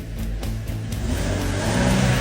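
A car engine starts up and settles into a steady, strengthening idle rumble with a low repeating throb, close and fairly loud, with no one speaking.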